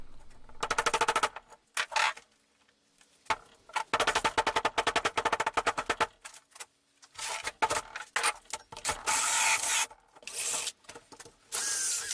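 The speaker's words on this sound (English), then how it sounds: "I took an old screwdriver that I don't really care about anymore, and just basically started chiseling it out" An old screwdriver scrapes and chisels out a hole in repeated rough bursts of rasping, chattering strokes separated by short pauses, growing harsher and denser toward the end.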